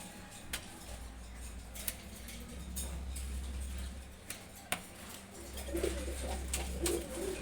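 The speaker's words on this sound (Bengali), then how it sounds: "ওর নিচেই আছে সিলভার গোড়া কবুতর দেখেন এগুলো খুব সুন্দর" Low, steady cooing from young silver pigeons comes in two long stretches, with a few sharp ticks and clicks scattered through a quiet background.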